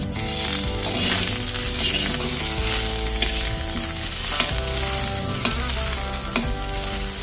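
Butter sizzles loudly and continuously in a frying pan, a dense crackling hiss broken by a few sharp clicks of a utensil, with no talking.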